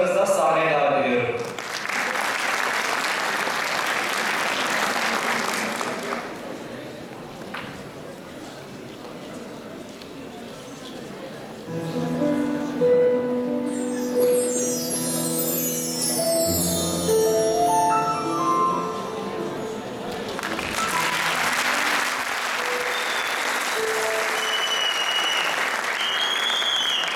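An audience at a university poetry evening applauds to welcome an orchestra onstage. A loud burst of clapping opens, music plays through the middle, and another long round of applause follows.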